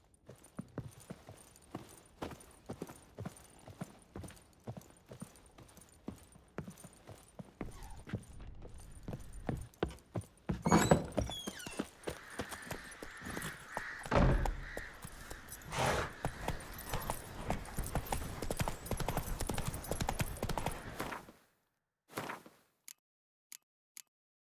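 Horse hooves clip-clopping in The Witcher 3, a steady rhythmic stream of hoofbeats that grows louder and busier with rattling tack, then stops abruptly, leaving a few isolated clops.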